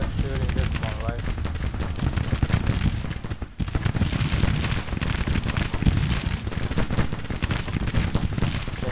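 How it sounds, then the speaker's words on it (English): Dense, sustained gunfire rolls on in a Civil War battle game, with rapid overlapping musket shots and heavy booms layered into a continuous loud barrage, broken only by a brief lull, while faint talk sits underneath. "They're shooting this one, right?"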